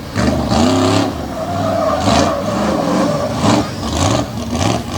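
A long-wheelbase, bright red Bronco monster truck named Warhorse races at Lake Erie Speedway, its engine roaring loud and close through repeated revving surges and gear shifts as it charges around the track.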